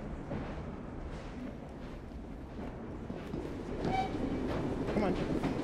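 Train rolling along rails in the Assassin's Creed Syndicate video game, a steady continuous rumble with faint rhythmic rail clatter that swells slightly louder near the end, with game sounds in the background.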